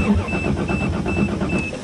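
A 1982 Toyota Cressida engine struggles with a rough, low churning as it stalls and fails to start, stuck out in the rain, with a faint repeating high warning chime sounding over it.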